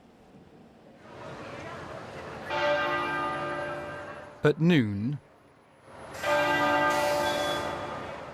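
Church bells ring out from abbeys and cathedrals in two clear spells of resonant, overlapping tolling, with a brief burst of speech between them.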